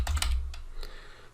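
Excel formula being typed on a computer keyboard, heard as a quick burst of a few close, crisp key clicks followed by one lone keystroke, with no voice over it.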